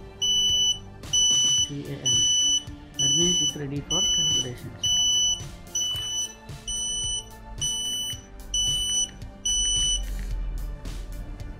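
An H2S T40 gas monitor alarm beeps in regular, evenly spaced shrill pulses, close and insistent, while someone talks over it.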